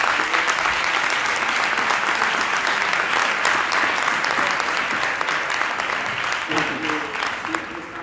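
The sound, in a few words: audience applause at a conference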